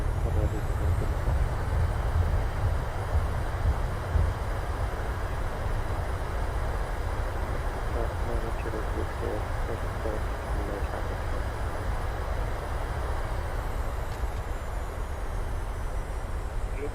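A Boeing 737-800 slows on the runway in a flight simulator with thrust reversers deployed, a broad, steady roar of engine and rushing air that holds at constant loudness throughout.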